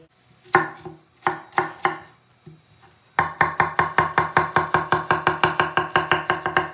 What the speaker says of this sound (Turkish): Diğer malzemeyi doğrayacağız şimdi.